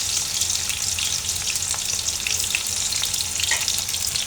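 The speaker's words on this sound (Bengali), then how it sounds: "তো তেল গরম হয়ে আসছে, আমি এখন এখানে দিয়ে দেব পেঁয়াজ, দিয়ে দেব আমি রসুন কুচি, আর দিয়ে দেব কাঁচামরিচ" Chopped onion, minced garlic and green chilies frying in hot oil, giving a loud, dense, continuous sizzle close up with faint crackles throughout and no speech.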